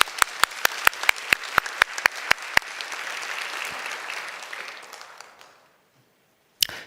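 A church congregation at a Friday revival service claps in warm, sustained applause. A few sharp, separate claps lead into a dense wash of clapping that fades out after about five seconds, followed by a brief knock.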